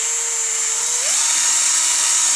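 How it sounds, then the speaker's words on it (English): An electric drill gun with a 5/32 bit reams a hole for NexStar landing gear, whining loud and close, its pitch rising partway as the motor speeds up. "I'm going to start with my drill gun and the 5/32."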